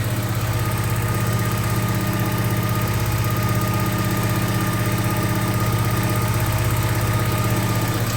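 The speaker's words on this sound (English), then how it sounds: "you can see it idle. It's kind of hunting around a little bit." 1984 Porsche 944 engine idling after a cold start with new injectors, a steady close-up mechanical hum with a deep drone and faint ticking, running alone without talk.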